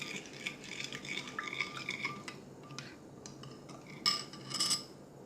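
A utensil stirring a yeast mixture in a bowl for bun dough, soft scraping and swishing up close, followed by a couple of brighter clinks against the bowl's side.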